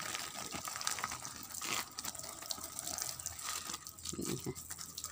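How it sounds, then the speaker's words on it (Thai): Water pours steadily over leaf compost in a woven basket, a continuous close splashing gush with some crinkling of wet leaves, running for several seconds without a break. "เนี่ยค่ะรดน้ำ ให้ปุ๋ยเปียกหมดทั้งชั้นนะคะ"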